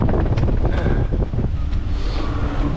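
Steady trade wind roars over a 26 ft sailboat far out at sea on a solo passage to Hawaii, a loud, unbroken rush of wind buffeting the microphone with faint water sounds beneath and no talking.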